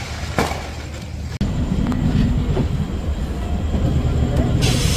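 Inside the Digha-Howrah Kandari Express as it pulls into Howrah station, a loud steady rumble of carriages rolls on with occasional sharp clanks and knocks from the wheels.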